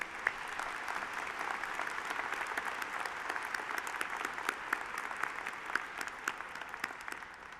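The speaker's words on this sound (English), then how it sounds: "So let's give these people a round of applause." Convocation audience applauding in a large hall, a broad wash of many hands clapping with crisp individual claps standing out, holding steady for several seconds at a moderate distance.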